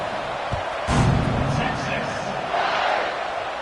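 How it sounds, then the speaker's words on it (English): A stadium crowd roars and buzzes in College Football 26 after a score, a broad continuous wall of cheering that swells briefly, under an announcer's play-by-play talk. "this crowd is buzzing after that last score."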